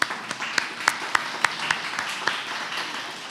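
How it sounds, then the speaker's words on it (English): Light applause for emerging scholar award winners at a conference opening session, scattered claps with distinct individual hand strikes spaced through a soft patter that thins toward the end. "let's give them a round of applause"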